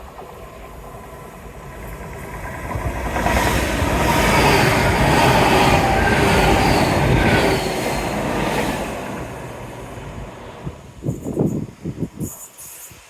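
A train runs along the Teignmouth seawall, starting faint in the distance, swelling into a loud sustained rumble with wheel clatter as it passes close by, then fading away, followed by a few brief knocks near the end.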